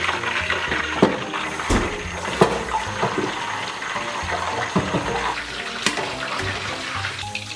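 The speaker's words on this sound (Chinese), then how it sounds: "现在锅里边已经开始噼啪作响了" Pork belly frying in oil at low heat in a wok, a dense crackling sizzle with scattered sharper pops, close and continuous.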